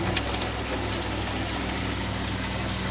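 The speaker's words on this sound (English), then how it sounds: "So when you use your water pump, obviously it makes noise." An RV water pump runs continuously with a steady, dense mechanical hum and low drone, loud and unbroken, with faint water rushing mixed in.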